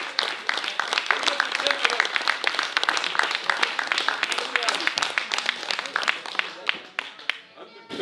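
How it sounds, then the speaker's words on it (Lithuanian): A concert audience applauds a male choir with dense, continuous clapping that holds steady for several seconds, then thins and fades toward the end. "Jūsų aplodismentai kolektyvui"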